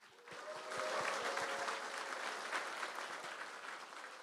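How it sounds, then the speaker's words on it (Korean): Audience at a university anniversary honorary doctorate ceremony breaks into sustained applause, a dense steady wash of clapping from a large crowd, filling the hall for several seconds. "여러분 뜨거운 박수와 함성으로 시작하도록 하겠습니다"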